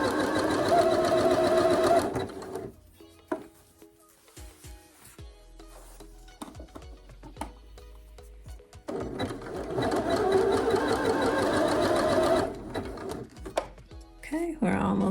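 A sewing machine stitches dress fabric in two long continuous runs of fast mechanical whirring. A quieter stretch between them holds faint clicks and a soft voice.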